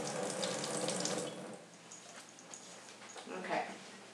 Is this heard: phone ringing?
no